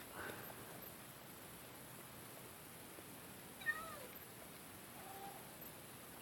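A soft cat meow from Minecraft gameplay sounds once amid quiet background hiss, with a fainter second mew a little later; no talking.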